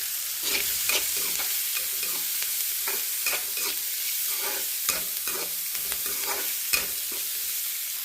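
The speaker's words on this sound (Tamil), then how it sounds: "நல்லா வதக்கலாம் கொஞ்சமாக மஞ்சள் போட்டுக்கலாம்" Liver sautéed with a little turmeric in a pan for a dried-chilli coconut pepper fry, a close steady sizzle broken by frequent scraping stirs and spatula clacks throughout, no voices.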